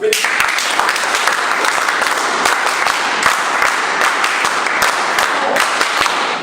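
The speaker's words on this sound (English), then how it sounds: "let's give yourself the most thunderous round of applause that you have ever seen in this hall." Sustained, dense applause from an audience in a Toastmasters meeting hall, steady and loud throughout with sharp individual claps standing out, and faint voices mixed in.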